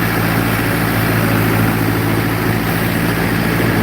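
A vehicle engine runs in second gear as a steady, loud, low droning hum with a constant mechanical tone, close by and unbroken, with no talking.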